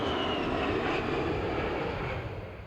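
Two A-10 Thunderbolt II Warthog jets of the 131st Fighter Squadron close head-on at about 500 mph, a loud, steady wash of jet engine roar that thins slightly as it ends.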